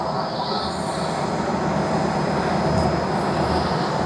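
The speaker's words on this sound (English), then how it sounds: "this Boeing 777 is being pulled along" Boeing 777 pulled along by an aircraft tug at Tokyo Haneda Airport, a steady, loud broadband rumble and hiss of ground machinery with a faint high whine running throughout, no talking.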